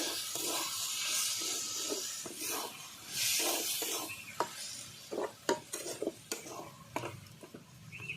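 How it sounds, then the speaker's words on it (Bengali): Lote greens cooking in a pan are stirred with a utensil, giving soft sizzling and hiss broken by sharp scraping clicks against the pan, louder and more frequent toward the end, with no talk. "এবার ভালো করে নাড়িয়ে নেবো আবার"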